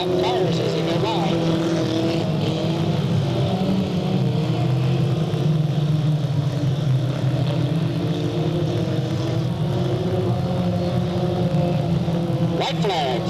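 Race cars lap a speedway oval under the lights at Delta Speedway, their engines forming a loud, continuous roaring drone as the leaders work through lapped traffic, with a steady crowd-and-track wash throughout.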